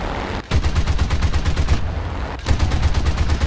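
Tank cannon shells fire in the video game War Thunder in two loud, rapid bursts of repeated shots, close and punchy, separated by a brief pause.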